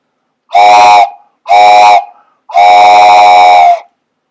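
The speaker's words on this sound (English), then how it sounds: "Railroad Hank chugged up and up the mountain" A loud steam whistle sounds three times, two short blasts and then a longer one, each with a breathy hiss. No chugging is audible.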